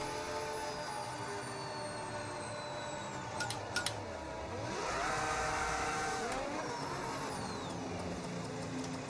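Formula 1 car in F1 25 holding a burnout, a steady high engine whine with rising and falling tones and a broad tire-scrub roar swelling midway, no talk.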